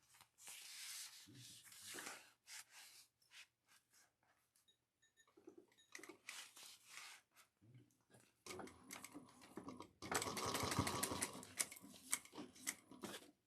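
A sewing machine stitches fabric for a small pouch in short separate bursts, then runs in a louder continuous whir near the end, with quiet handling noises between runs.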